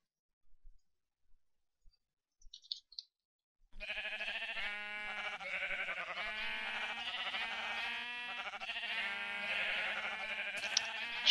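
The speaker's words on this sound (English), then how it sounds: "Okay, now let's put some sheep in and test this thing." Sheep bleat in the video game Minecraft, a continuous layered run of synthetic bleats after a few quiet clicks, steady and fairly loud.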